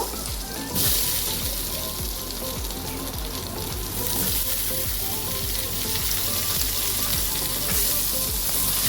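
Tomato sizzling and frying in a hot pan with steady bubbling crackle and repeated stirring scrapes, close and continuous with no talking.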